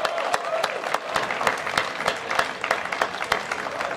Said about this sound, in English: so a round of applause to the crew team.